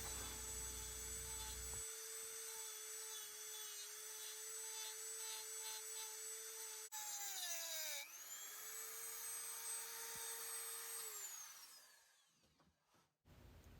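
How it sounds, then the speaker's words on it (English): A high-pitched Dremel rotary tool grinding metal on a 7.3 IDI truck engine whines steadily, dips briefly in pitch as it bites, then winds back up before spinning down near the end. "I'm just going to take this Dremel and flatten it out"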